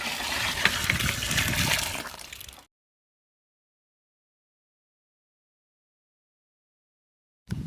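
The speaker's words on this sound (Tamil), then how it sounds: "இளநீ தண்ணியை ஊற்றுறோம்." Tender coconut water is poured into a pot for coconut payasam in a village kitchen, a short close splashing pour lasting a couple of seconds before stopping abruptly, followed by silence.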